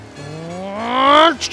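A car in the 1930s-era game Mafia Definitive Edition accelerates hard, its engine whine climbing steadily in pitch through a gear before cutting off, loud and close.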